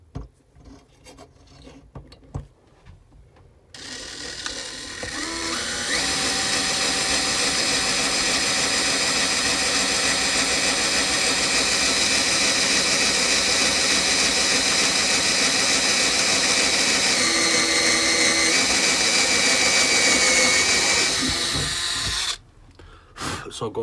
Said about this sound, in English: I'm going to drill it all the way through till I come out the bottom the other side